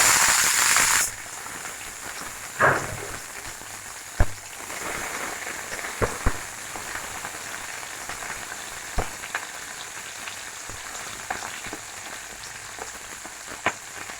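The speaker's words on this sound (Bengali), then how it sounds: "বিনসটা ভেজে নেবো।" Beans frying in white cooking oil in a wok, a steady soft hiss with faint crackle throughout and a few sharp clinks and taps of utensils, no voices.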